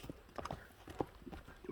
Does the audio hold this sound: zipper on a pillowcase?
no